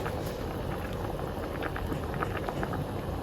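Beef stew with garlic and thyme boiling in a pot, a low continuous bubbling rumble that stays even and fairly quiet.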